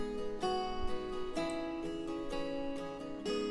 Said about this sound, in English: This is the sound of the guitar